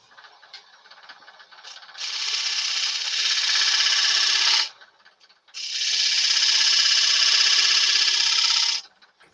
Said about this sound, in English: So I'll use the bowl gouge and do it.